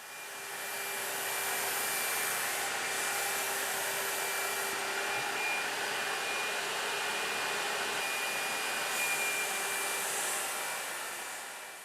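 Fuji Semi Pro 2 turbine HVLP paint sprayer with an M style gun spraying, a steady loud airy hiss and turbine whine over a constant hum, with the gun's spray surging briefly at intervals.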